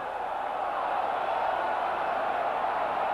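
A football stadium crowd at a 1983 Philadelphia Eagles at Chicago Bears game roars in a steady, unbroken wash of distant shouting that holds at an even level throughout.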